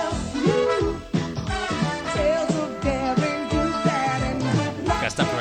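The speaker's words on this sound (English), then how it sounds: "The theme sounds like this. We'll put it in now in editing." The DuckTales theme music plays, a loud and dense full-band track with rhythmic bass pulses and melody running throughout, with no talk over it.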